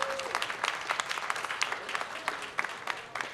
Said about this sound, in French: On va pouvoir les applaudir